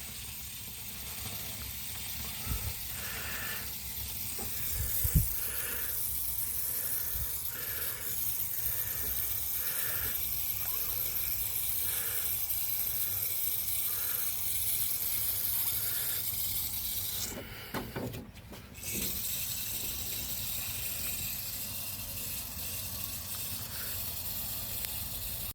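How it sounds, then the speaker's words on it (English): Foam squirted through a part of a 1965 Ford Thunderbird during a rebuild: a steady close hiss with soft rhythmic pulsing spurts, then a brief louder gush and a short break near the end. "We're squirting foamy shit right out the bottom"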